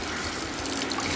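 Water poured from a cup into a pot of biryani with beef, a steady broadband splashing pour that fills the short moment continuously at moderate level, with no talk over it.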